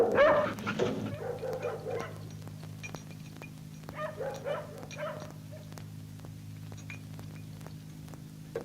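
A dog barks and yips near a house, several loud bursts packed into the opening second, then fainter scattered yelps over a steady low hum.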